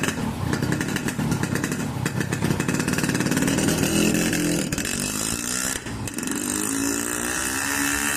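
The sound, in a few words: motorcycle riding off on hands-free test drive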